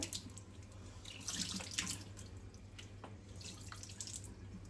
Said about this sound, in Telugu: కొంచెం గోరువెచ్చని నీళ్ళు తీసుకొని ఫేస్ వాష్ చేసుకోవాలి